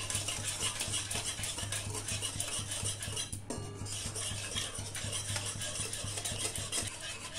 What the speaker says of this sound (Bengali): চিনি দিয়ে দিয়েছে মা, এবার এটাকে ভালো করে নাড়াতে হবে